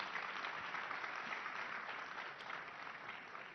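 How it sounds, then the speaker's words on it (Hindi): An audience at the Rising Bharat stage event gives a steady burst of applause to welcome a guest, with dense, continuous clapping heard from a distance at low volume and no talking over it. "रेखा गुप्ता जी यहां राइजिंग भारत के मंच पर जोरदार तालियों से इनका स्वागत कीजिए।"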